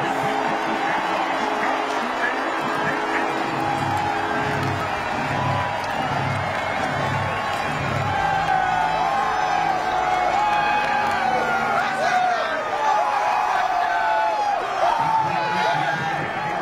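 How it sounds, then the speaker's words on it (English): A stadium crowd at Ross-Ade Stadium roars and cheers after a touchdown in a Michigan–Purdue college football game, a dense, sustained wall of cheering with a play-by-play commentator talking over it. "It took a while, but finally something to cheer about at Ross-Ade Stadium"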